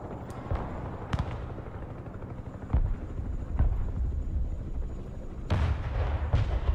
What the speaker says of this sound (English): I got the helicopter.